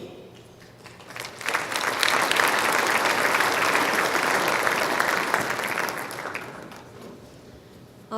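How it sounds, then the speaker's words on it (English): Audience applause for contestants on stage at an ambassadors competition, a dense sustained wash of clapping that swells after a second, holds steady and loud, then tapers off near the end. "let's give a final round of applause for those contestants."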